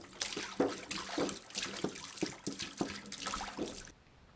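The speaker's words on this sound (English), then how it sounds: "now we're going to add some fuel, but I'm just going to add it a little bit at a time" Fuel is poured a little at a time into the fuel tank of a Bombardier Traxter 500 ATV, a close gurgling, glugging splash in uneven pulses that stops abruptly.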